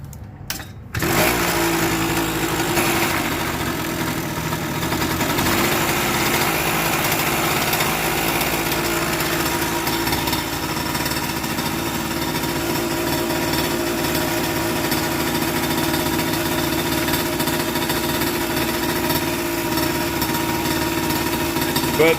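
A small single-cylinder mini bike engine, fitted with a custom exhaust and still needing some choke, idles steadily and loudly after a brief start, holding a constant buzzing drone with no talk.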